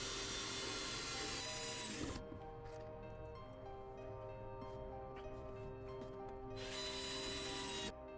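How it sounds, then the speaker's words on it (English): A power drill drives screws into wooden furniture being rebuilt from salvage, with two sustained whirring runs at the start and end and quieter tool noise between them. "I'll secure it using wood glue and screws."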